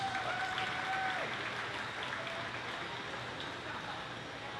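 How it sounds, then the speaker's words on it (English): A bowling tournament crowd applauding to start a youth squad, a dense steady wash of clapping that fades gradually, with a faint tone early on. "let's start this squad with a nice round of applause"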